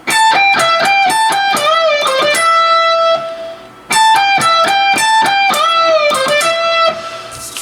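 Distorted electric guitar plays a riff through delay and reverb: quick picked high notes with bends in two matching phrases, each trailing into a sustained echoing tail, loud and up front with no voice.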